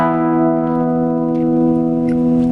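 An electric guitar rings out a sustained power chord fretted at the 7th position, a rich, loud, steady tone with strong harmonics that holds evenly for a couple of seconds.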